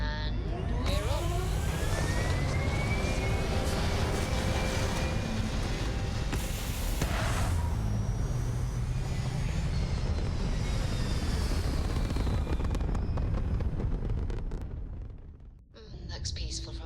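Spaceship liftoff in the Starfield video game: a loud, sustained engine roar with rising tonal sweeps builds and holds, then dips briefly near the end before returning.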